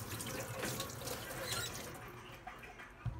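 An eggplant is washed under a running kitchen tap, a steady close splash and trickle with small pattering knocks, fading slightly toward the end.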